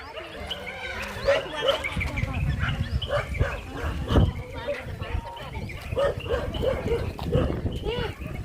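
Several dogs bark repeatedly at a moderate distance while people talk over them, the barking continuing in irregular bursts throughout.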